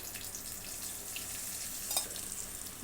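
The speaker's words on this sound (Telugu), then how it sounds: "ఆయిల్లో పచ్చిమిరపకాయలు వేస్తున్నా, కొంచెం పుదీనా కూడా వేస్తున్నా, కొంచెం పసుపు వేస్తున్నా." Green chillies, mint and turmeric frying in hot oil, a continuous crackling sizzle with small pops throughout, close and fairly steady.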